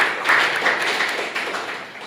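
A university sociology class breaks into brief, fairly close applause, a dense patter of many hands clapping that fades over about two seconds with no talking.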